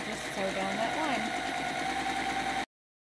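Close and steady, a sewing machine's motor hums as it stitches along a drawn line on a quilt block, a continuous whir that stops abruptly at the end.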